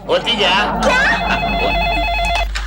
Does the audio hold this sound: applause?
no